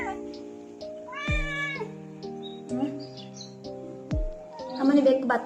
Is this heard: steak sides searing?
no